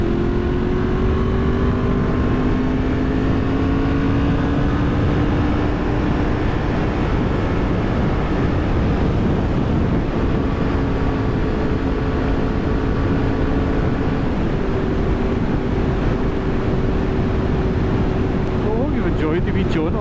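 A Honda VFR750 motorcycle engine drones loudly while riding and overtaking, its steady tones shifting in pitch under heavy, continuous wind roar from start to finish.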